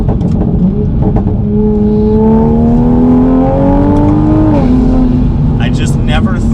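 A tuned car with full bolt-ons and a tune accelerates hard, its loud engine note climbing steadily in pitch for several seconds before a brief dip as it shifts, then pulling on.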